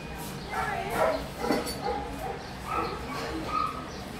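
A small dog yips, whimpers and barks in repeated short bursts, fairly faint and indoors, with people talking quietly in the background.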